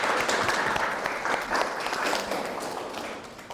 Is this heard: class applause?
yes